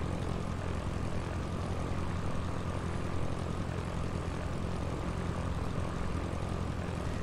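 Steady, droning propeller engine of a Cessna aircraft in flight in a flight simulator video game, a constant loud hum with no change in pitch and no voices.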